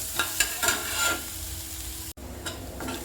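Onions sauté in a pan for vallarai keerai poriyal, with a steady quiet sizzle broken by a few soft stirring scrapes, close up and without speech.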